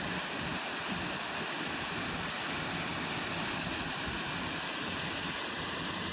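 A waterfall at Kaladab in Azad Kashmir roars as a steady, continuous wash of rushing water, broadband and unbroken from start to finish with no voices over it.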